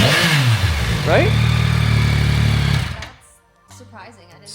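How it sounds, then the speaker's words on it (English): A stock exhaust on a brand-new 70th Anniversary Edition Yamaha R9 motorcycle revs up sharply and holds a loud, rasping drone before dropping off to a quieter idle, heard up close with people talking over it. "Yeah, it sounds pretty good for a stock exhaust."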